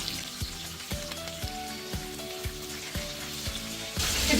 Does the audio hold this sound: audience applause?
no